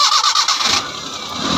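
A Suzuki Bolan van's engine cranks and catches, settling into a steady mid-pitched idle right up close, heard just after a Bosch part was installed on the gas-fuelled van.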